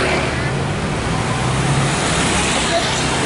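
Jammed traffic at Babat market in Lamongan fills the air with a dense, loud roadway rumble of cars, buses and trucks, steady and close, with background chatter mixed in.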